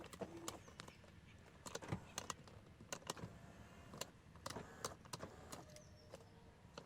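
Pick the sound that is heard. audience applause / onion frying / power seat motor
power seat motor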